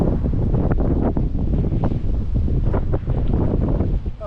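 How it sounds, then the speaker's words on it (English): Strong winter wind blowing beside the River Severn, loud continuous buffeting and rumbling against the microphone with gusty surges throughout, no speech. "The wind got so bad"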